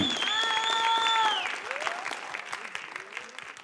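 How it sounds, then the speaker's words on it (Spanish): Applause for a semifinalist being announced at a results ceremony, with a sustained electronic tone and voices at first, then scattered audience clapping continuing beneath a fading background. "Fuerte aplauso para ella, está en semifinal."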